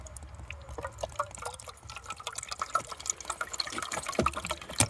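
Water is poured for a thirsty dog to drink during a walk near Thetford Warren Lodge, a steady splashing and trickling pour with uneven bursts that builds slightly toward the end.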